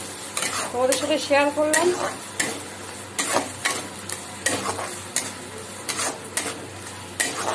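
Food fries in a pan with a steady sizzle and repeated stirring scrapes, while someone talks briefly near the start.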